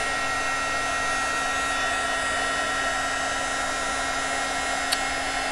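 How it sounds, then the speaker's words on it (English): A Wagner heat gun blows hot air in a steady, unbroken whoosh with a constant motor tone, close and fairly loud, with no talking. "Denise loves her Wagner heat gun"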